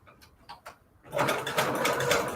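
Sewing machine stitching a paper embellishment, a soft tapping at first, then a loud, rapid mechanical stitching run that keeps going, close up and without talk.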